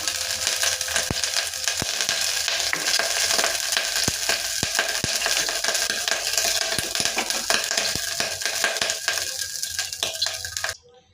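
Ghee heating in a pan for coconut payasam, with a steady bright sizzle and frequent small scraping clicks from a spoon stirring, close and continuous, fading out at the end.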